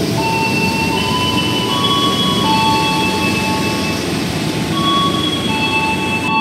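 Aboard the Airlangga economy-class train between Jakarta and Tegal, a constant loud rumble of wheels on track fills the carriage, with thin metallic squealing tones drifting in and out above it.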